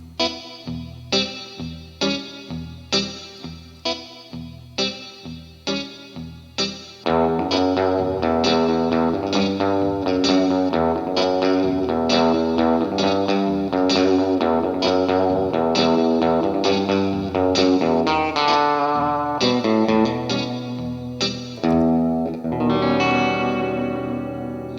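Electric guitar played through a TC Electronic Hall of Fame Mini reverb pedal: a few plucked, decaying notes, then sustained strummed chords washed in reverb, ending in a lingering tail.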